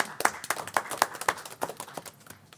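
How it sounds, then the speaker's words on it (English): Applause at a school board meeting: a short burst of scattered clapping from a modest crowd in a room, steady for a couple of seconds and then tapering off. "we pause for another round of applause"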